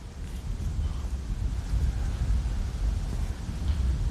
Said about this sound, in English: It's another super, super windy day here in Wisconsin